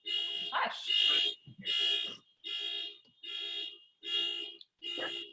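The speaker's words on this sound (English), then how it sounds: "there's a car across the street that's got its alarm going off" Car alarm going off across the street, a loud repeating electronic whoop in even bursts about once a second with short gaps, heard from a distance with a little background noise.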